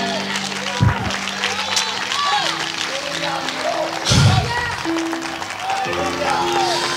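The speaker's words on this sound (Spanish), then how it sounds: "Denle un fuerte aplauso al Señor." A church congregation in Valledupar, Colombia, clapping and cheering for the Lord over a sustained tone and low musical notes, with voices mixed into the steady crowd noise.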